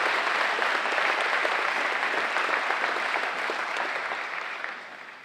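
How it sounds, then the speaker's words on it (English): An audience at a community foundation annual meeting gives a round of applause for a grant presenter, steady close clapping that holds strong and then tapers off toward the end. "One more round of applause for Heart and House."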